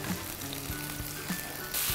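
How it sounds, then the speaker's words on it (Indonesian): Chicken pieces coated in opor spice paste sizzle steadily on an open grill, a close, continuous crackling hiss with small pops and no voices. "Nah, ini proses pembakarannya harus terbuka ya, supaya bagian luarnya agak sedikit kering ya."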